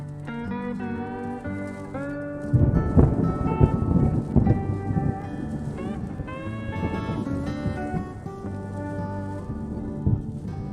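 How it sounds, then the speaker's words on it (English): Thunderstorm at Arches National Park, Utah, heard from inside a car: heavy rain drumming steadily with a loud deep thunder rumble rolling in after a couple of seconds and fading slowly. "Oh, I have forgotten to mention the loud thunder cracking too."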